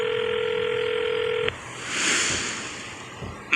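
A steady electronic phone tone sounds for about a second and a half, then cuts off, leaving a soft whooshing hiss.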